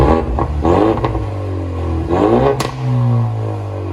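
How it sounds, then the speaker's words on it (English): A Ford Mustang EcoBoost engine revs and surges inside the cabin, with a whooshing, rising turbo spool layered over the rumble; loud and close, two swells of acceleration. "You can actually hear the turbo now."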